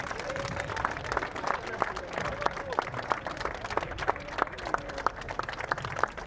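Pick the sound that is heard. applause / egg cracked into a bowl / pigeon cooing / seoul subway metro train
applause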